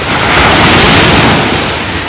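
Continuous roar of sea surf breaking on a beach in the early morning, a steady broadband wash with slight swells in loudness and some wind buffeting, no voices.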